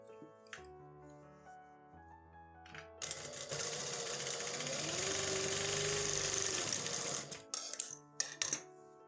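A sewing machine runs a seam on trousers, starting with a few short bursts and then whirring steadily for several seconds before stopping, with a handful of small clicks at the end.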